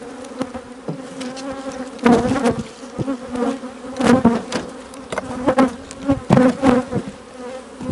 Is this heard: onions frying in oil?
no